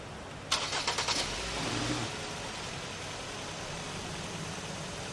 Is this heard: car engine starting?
yes